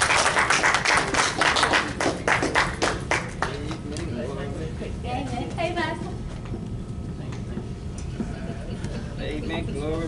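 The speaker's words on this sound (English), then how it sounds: "Let's give him a hand." Church congregation applauding for the pastor, loud rapid clapping for the first few seconds that then fades into softer scattered claps and murmuring voices.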